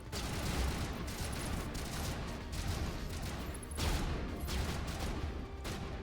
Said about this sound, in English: stand here and shoot them